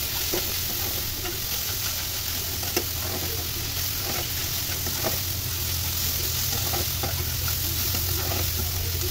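Ginger paste stir-fried in a pan, a loud, steady sizzle and hiss close by with occasional soft stirring taps throughout.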